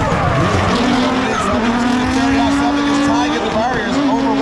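Drift car tires squeal in a long sustained screech during a drifting competition run at the LZ Invitational, engine roaring underneath, loud and close, with a commentator talking over it.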